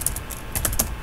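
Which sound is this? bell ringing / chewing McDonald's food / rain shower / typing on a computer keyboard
typing on a computer keyboard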